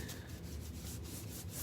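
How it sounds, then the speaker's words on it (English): Paint being rubbed back by hand to distress a faux old-world finish, a steady close scuffing friction with faint rhythmic strokes running throughout, no talking. "we're gonna rub it back a little bit"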